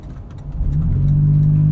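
A Toyota SUV engine with a TRD exhaust rumbles low then builds into a rising rev with a steady droning exhaust note, loud and close.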